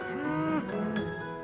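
Cattle on a Canadian beef cow-calf farm give a single long, loud, close moo that wavers in pitch and fades out, with no talk.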